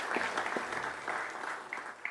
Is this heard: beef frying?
no